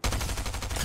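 Rapid gunfire in Fortnite, a dense, loud burst of repeated shots fired close up in a steady fast rhythm, with no talking.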